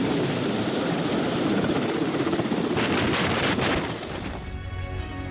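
A helicopter carrying injured CRPF jawans roars steadily and loudly with dense rotor noise, then the sound drops away sharply near the end.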